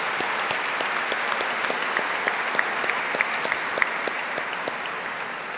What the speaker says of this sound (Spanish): Son ustedes los que merecen el aplauso bien fuerte.